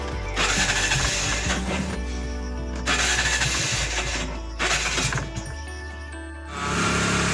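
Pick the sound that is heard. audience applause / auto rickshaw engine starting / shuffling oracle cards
auto rickshaw engine starting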